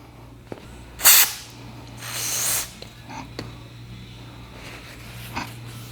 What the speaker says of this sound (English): Okay, well, brake clean it is.